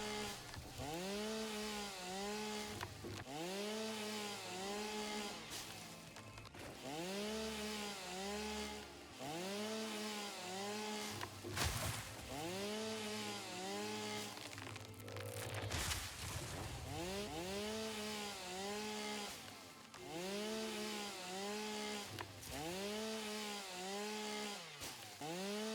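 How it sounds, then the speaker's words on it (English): Chainsaw in the Satisfactory game cuts through mycelia and biomass in a cave, revving in steady repeated strokes with rising whines, loud and continuous throughout. "it's time for a chainsaw montage"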